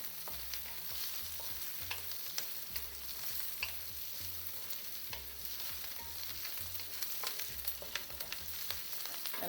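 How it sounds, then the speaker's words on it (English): Onions and cashew nuts fry and crackle in a pan with a steady, faint sizzle, while a spoon stirs them in repeated scraping strokes at a regular rhythm, with no talking. "Just fry it for a minute"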